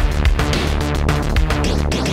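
A dense, driving vintage industrial drum machine pattern with punchy kicks and bright metallic hits layered over a droning tone, loud and continuous.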